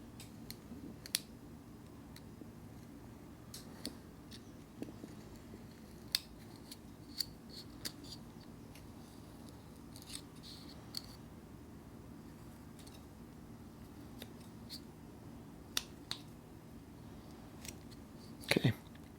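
A knife makes relief cuts while carving a wooden head, giving sharp, irregular clicks and snicks spaced every second or so over quiet room hum, with a brief louder scrape near the end.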